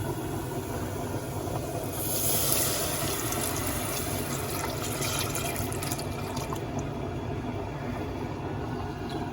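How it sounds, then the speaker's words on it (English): Milk pours steadily into a pot of pepperoni mac and cheese sauce base with tomato paste, a continuous close liquid rush that swells slightly midway and then runs on evenly. "I'm also going to add in 2 cups of milk here."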